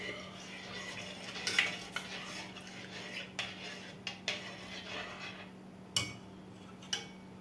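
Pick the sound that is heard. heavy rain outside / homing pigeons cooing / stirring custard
stirring custard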